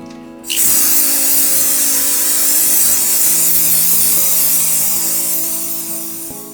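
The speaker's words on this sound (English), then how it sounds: "It's time for spraying." Aerosol spray paint hisses continuously and loudly onto a mixed media artwork of a pyramid on the Amazon River, a steady close hiss starting abruptly and fading slightly at the end over a faint hum.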